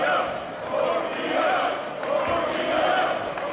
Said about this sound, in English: Now the crowd firmly back behind Scorpio